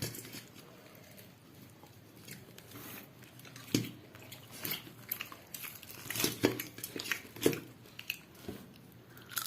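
People chewing samosa at home, soft close crunches and bites scattered irregularly with faint clinks of dishes, fairly quiet, no talk.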